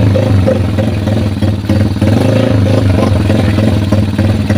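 A Rusi TC 125/150 motorcycle engine fitted with a round carburetor runs steadily up close, a loud, continuous low-pitched thrum with a mechanical clatter and slight swells in revs throughout.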